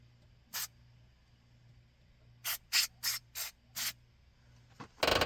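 White lithium grease sprayed from a pressurized can onto a 1997 Ford F250HD truck door latch: one short hiss, a pause, then five quick close bursts in a row and a final longer spray.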